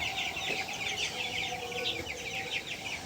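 A flock of twenty-day-old broiler chickens on a poultry farm keeps up a constant, busy clucking and chirping chatter, fairly close and without a break.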